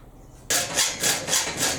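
Hand-cutting metal with a saw or file while making a phone clamp: after a short quiet start, four or five rhythmic rasping strokes sound close and even-paced.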